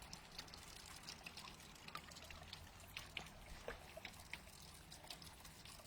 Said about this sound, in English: as you can hear behind me, maybe, my fountain's going